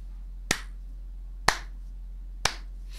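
Three slow, deliberate claps spaced about a second apart ring out close by and alone, each a sharp smack over a steady low hum.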